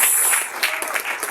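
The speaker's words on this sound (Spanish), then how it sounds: "Denle un aplauso al Señor." A church congregation applauds steadily, a dense wash of clapping at moderate volume throughout with no talk over it.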